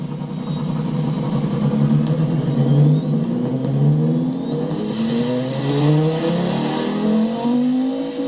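Car engine in the game Automation, a front-wheel-drive car with a manual 7-speed and a high-flow 3-way straight-through exhaust of 4.4 inch diameter, revving up through gears in repeated rising sweeps, loud and continuous with no talk.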